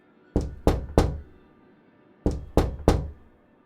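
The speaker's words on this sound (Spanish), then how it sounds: "Y luego comenzaban a golpear la puerta." Knocking on a bedroom door in a horror story: two sets of three heavy, hollow knocks, evenly spaced and close, separated by a short silence.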